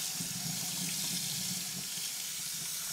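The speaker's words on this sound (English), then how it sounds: "I use my juicer several times a day, so I usually just clean it with warm water." Warm water runs steadily from a kitchen sink tap while juicer parts are rinsed, a continuous close hiss and splash with no talking.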